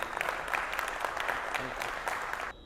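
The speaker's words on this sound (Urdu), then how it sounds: "دوبارہ تالیاں ہونی چاہیے۔" An audience at a Pakistani lovebird show applauds, a full, even burst of many hands clapping with faint voices mixed in, cutting off abruptly near the end.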